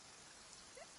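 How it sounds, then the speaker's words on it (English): Steady rain falling in a Genshin Impact game scene, a soft, even hiss of drops with no other sounds over it. "It's raining"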